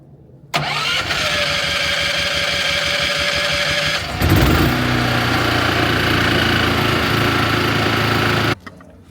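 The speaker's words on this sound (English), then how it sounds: "I'm going to fire up the generator" An onboard RV generator on a Brinkley cranks to life, then settles into a loud, steady mid-pitched engine drone that runs evenly for several seconds before shutting off abruptly at the end.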